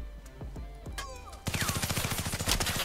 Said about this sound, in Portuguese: Meu Deus, de onde tá vindo esse tiro?